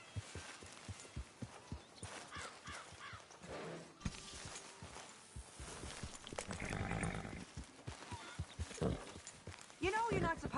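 Horse hooves clip-clop in a town in Red Dead Redemption 2, a steady near rhythm of hoofbeats with voices talking over much of it.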